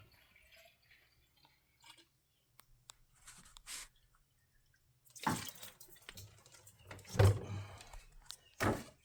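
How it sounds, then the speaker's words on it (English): Coolant poured from a jug held sideways into the radiator of a Dodge RAM 1500, with faint drips and splashes at first, then louder gurgling and sloshing bursts close by in the second half. "there's what I was telling you about holding your jug sideways. You don't get as much gurgle."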